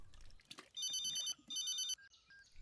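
A telephone rings in two loud electronic trilling bursts indoors, separated by a short gap, with faint rustling and handling noise before and after.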